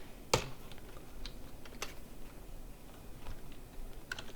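Keys tapped on a computer keyboard while coding a Java project, sparse irregular clicks with a few sharper strokes, close and soft.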